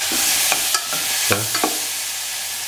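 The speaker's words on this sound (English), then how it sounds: "Stir." A spoon stirs banana pieces and cardamom pods in a pan for a sweet banana porridge, making several distinct scraping strokes over a soft, constant sizzle, with no one speaking.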